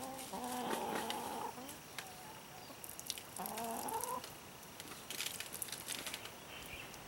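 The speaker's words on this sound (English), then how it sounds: "There's all these chickens behind us." Chickens on Hawaii's Big Island cluck in a rainforest setting, two bursts of drawn-out hen calls up close amid a rustling, noisy outdoor background.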